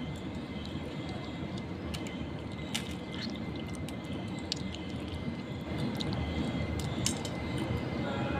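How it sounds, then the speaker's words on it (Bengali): Soaked tamarind pulp is squeezed by hand for panipuri, making a steady close wet squishing and sloshing that carries on throughout. Occasional light clicks sit on top of it. "এখন তেঁতুলের ছোবাগুলো চিপে চিপে ফেলে দেব।"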